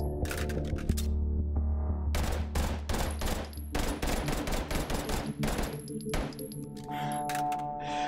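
Rapid full-auto fire from pistols in the VR shooter Hot Dogs, Horseshoes & Hand Grenades, fired akimbo with one an illegally modified full-auto G23. A whole magazine is dumped in long, loud, dense bursts with brief gaps, and the shots ring out close.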